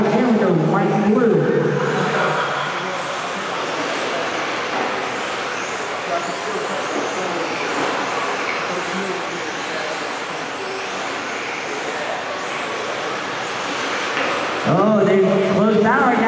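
Stock cars roar past in a close battle for first place down the back stretch of an oval track, a loud continuous engine drone with a voice talking over it at the start and end.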